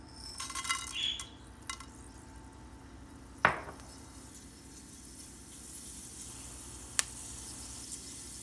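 Fenugreek seeds sizzle in hot oil for an egg-tomato curry, a faint, steady crackling hiss with a sharp clink of a utensil partway through and another small tick near the end.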